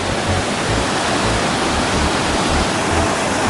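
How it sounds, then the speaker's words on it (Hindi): Waterfall roaring in a steady, dense rush of falling water that stays loud and unbroken throughout, with no voices over it. "देखिए वाटरफॉल का नज़ारा"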